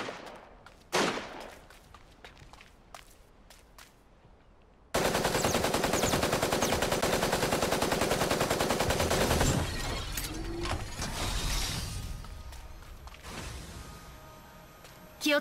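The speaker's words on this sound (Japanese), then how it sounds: "銃声が聞こえた。" In the mecha battle game Super Mecha Champions, loud continuous automatic gunfire rattles for about five seconds. A few isolated shots come before the burst and fading bursts follow it, with no talking.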